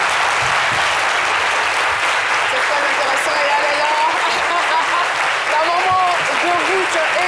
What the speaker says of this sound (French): Merci beaucoup de les applaudir très très fort